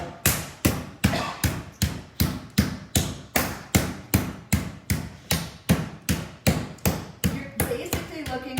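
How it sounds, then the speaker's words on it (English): A flat-sided meat pounder beats a raw pork chop out thin, about twenty sharp, evenly spaced thuds in a fast steady rhythm, loud and close with no talk. "And then on the flat side of your meat pounder, you want to just pound it out."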